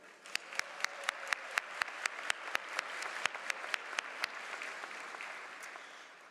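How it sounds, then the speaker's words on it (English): At a university graduation ceremony, the audience applauds the faculty, a dense crowd clapping throughout while one nearby pair of hands claps in sharp, regular beats over the first few seconds before the applause slowly fades. "Please join me in a round of applause for your faculty"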